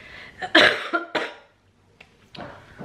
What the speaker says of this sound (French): Je tousse encore, je suis désolée